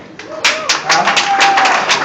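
A comedy club crowd in Salt Lake City claps in a brief, loud burst of scattered hand claps, with voices and a shout rising over the clapping.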